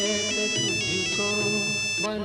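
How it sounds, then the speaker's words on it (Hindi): A phone ringtone sounds late at night, a bright repeating electronic melody, clear and steady, with no voices over it. "इतनी रात को किसका फोन है?"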